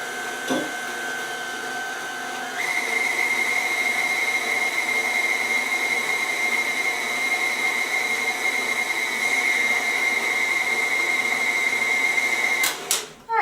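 An electric mixer whips chocolate peanut butter pie filling, a steady loud motor whine that steps up in speed after a couple of seconds, runs on evenly and then cuts off abruptly near the end.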